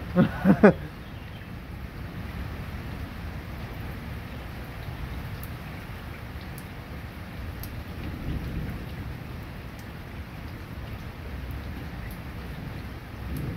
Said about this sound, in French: Il repleut.